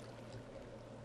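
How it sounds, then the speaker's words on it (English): Minecraft water flows as a soft, steady trickling stream, faint and continuous with no other sounds. "Where is this water coming from?"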